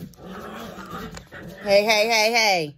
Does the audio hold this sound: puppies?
yes